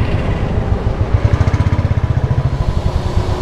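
Royal Enfield Bullet motorcycle idling at a washing station, its single-cylinder engine thumping in a steady, rapid pulse that stays close and loud throughout.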